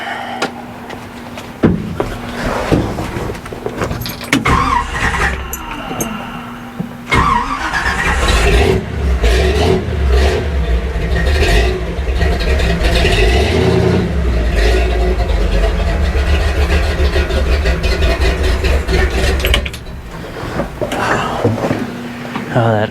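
A 1972 GMC 3500 wrecker truck's engine runs close by, idling roughly before the revs rise and hold steady at a loud level, then drop back, with brief knocks and a voice at times.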